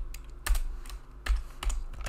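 Fingers tap on a computer keyboard in short irregular bursts of clacking keystrokes, close and moderately loud, with no voices.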